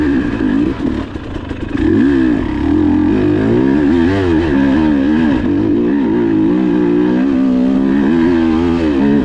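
A motorcycle on a ride accelerates in second gear, its engine note climbing and wavering loudly and close as the throttle opens and holds.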